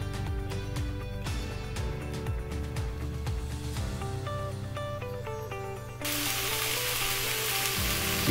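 Shallots and chopped mushrooms sweat in a Dutch oven with a steady, moderate sizzle that grows brighter and hissier near the end, and no voices.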